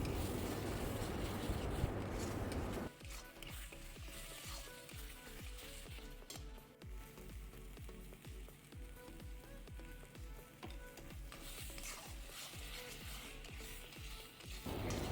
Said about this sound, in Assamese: নিমখ হালধি দি আৰু অলপ সময় ভাজি ল'ম